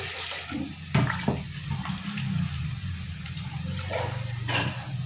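Chicken washed by hand under running tap water in a home kitchen: a steady near stream splashes into a vessel, broken by a few sharper splashes and clinks as the pieces are handled.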